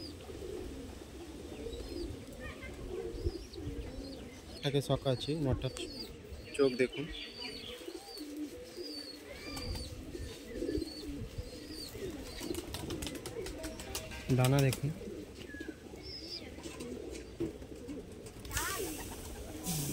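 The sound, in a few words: Madrasi pigeons cooing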